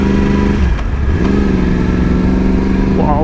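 A Yamaha R1 sport bike on new Bridgestone Battlax S23 tires runs loud and close, its engine holding a steady drone with a dip and rise midway before revving up at the end.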